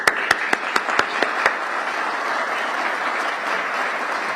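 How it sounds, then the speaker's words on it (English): Applause from the audience at a police sergeants' leadership course graduation ceremony: a few loud, distinct claps at the start, then a steady, dense wash of clapping from a large crowd with no one speaking. "I wanted to give you a big round of applause."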